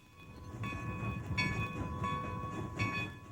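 A steam locomotive rolls along with its side rods turning the drive wheels, giving a low rumble and several sustained tonal blasts that come and go, moderately loud and near.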